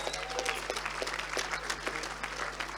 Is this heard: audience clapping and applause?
yes